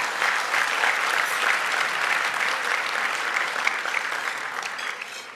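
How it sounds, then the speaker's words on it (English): An awards gala audience breaks into sustained applause, a dense, even wash of many hands clapping close by, holding steady for several seconds before easing off slightly. "Let's give them another round of applause."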